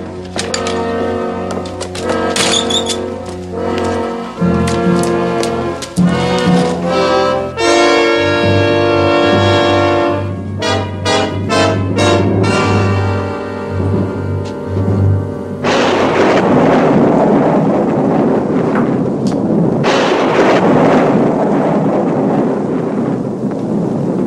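A thunderstorm with rain and rolling thunder in an old Western drama setting, a loud, sustained roar of rain and rumbling that swells over a musical score and then dominates alone as a dense, noisy downpour.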